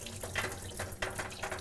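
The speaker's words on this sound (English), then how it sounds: "So I'm gonna drain this water off of them." Water from soaked beans pours off into a sink while cooking southern collard greens, a steady splashing, running flow heard up close with no talk.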